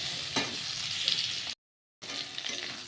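Ground cumin and coriander frying in a pan before aubergine and spinach go in: a close, steady sizzle with stirring scrapes, briefly cut to silence midway, with no talk.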